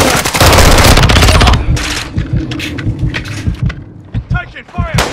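Loud, rapid automatic gunfire in the Call of Duty: Modern Warfare II multiplayer shooter, a dense sustained burst followed by scattered shots and thuds, with voices chattering underneath.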